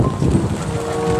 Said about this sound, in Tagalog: Medyo malakas po ang ulan.